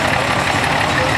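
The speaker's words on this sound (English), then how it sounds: "Big 560 standard diesel, dual front wheel assist," A big 560 standard diesel tractor with dual front wheel assist idles nearby at a farm show, a loud steady low rumble with no change in pitch and no talk over it.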